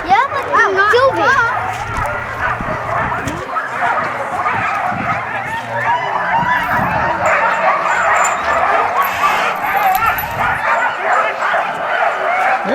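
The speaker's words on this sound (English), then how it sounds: "There's some pups." Several puppies at a kennel in Skagway, Alaska yip, bark and whimper in overlapping high bursts close by, continuous throughout while people talk over them.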